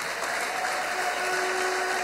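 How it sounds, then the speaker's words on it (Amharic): An audience at a church gathering bursts into sustained, even applause, a dense crackle of clapping at moderate distance with a faint high sustained tone running through it; no ululation stands out clearly. "ለዚህ ጌታ እልልታ ጭብጨባ"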